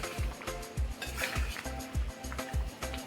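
A spoon scrapes and knocks rhythmically around a pot of bubbling, sizzling white chickpea curry, about twice a second, close and steady.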